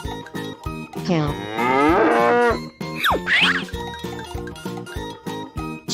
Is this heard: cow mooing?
yes